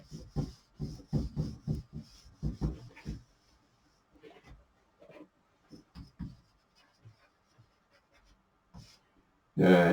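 Chalk or marker writing on a board during a mathematics lecture on vector spaces, a run of close scratchy strokes and taps in quick bursts, thinning to sparse short marks in a quiet room.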